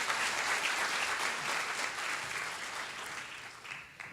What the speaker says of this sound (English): So let's give them a round of applause for doing such a great job.